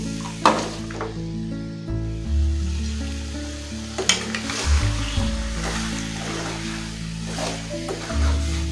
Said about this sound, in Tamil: இந்த சிக்கனை நல்லா வதக்கிக்கோங்க